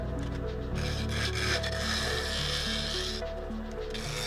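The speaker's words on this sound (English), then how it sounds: "Still using that little bowl gouge that I've got, and it's got the same cut, but it's a much smaller tool" A small bowl gouge cutting a claret ash snack bowl spinning on a lathe, giving a continuous loud rasping scrape over the steady hum of the machine.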